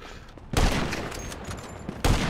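Loud, close bursts of automatic gunfire in a competitive online shooter match, two sharp volleys with a dense rattle of shots between them and no talking.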